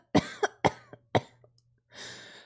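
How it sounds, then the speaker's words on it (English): A character in the video game Virche Evermore coughs repeatedly, three or four sharp close coughs in quick succession, followed by a softer breathy exhale. "I coughed again and again"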